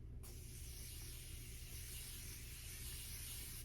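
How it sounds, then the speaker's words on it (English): Makeup setting spray misted onto a face: a soft, continuous close hiss that begins abruptly after a brief quiet moment and holds evenly to the end. "Add some setting spray now."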